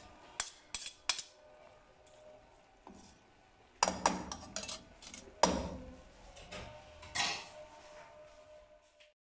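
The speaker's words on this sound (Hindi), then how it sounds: "हम इसको निकालते हैं, डिश आउट करते हैं।" Noodles are served from a pan onto a dish with scattered metal scrapes, clinks and knocks of a utensil against cookware, coming in short irregular bursts with quiet pauses between them.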